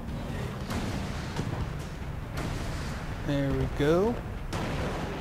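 Cannons fire repeatedly at the player in the video game Alice: Madness Returns, a series of booming thuds spaced across the clip under in-game music and someone talking.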